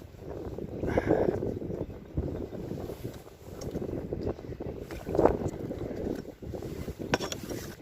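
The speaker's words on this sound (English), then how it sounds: "Nothing more than fucking wind I hate." Wind buffets a fishing boat on the water, a loud, rumbling microphone roar that rises and falls in gusts throughout, with faint creaks of the boat and no speech.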